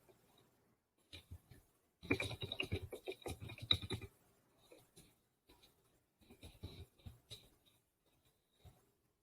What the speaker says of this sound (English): If I can type it.